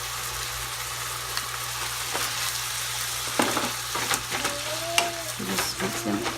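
Peas, carrots, green beans and corn kernels sizzle steadily in a hot pan, with intermittent scraping and clinking as they are stirred through.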